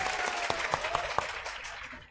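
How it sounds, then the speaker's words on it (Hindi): Audience clapping at a coaching-class gathering celebrating a candidate's final selection for the Bihar police sub-inspector post, a brief burst of scattered claps in a room, fairly soft and fading out. "एक बार इनके सिलेक्शन के लिए जोर से ताली।"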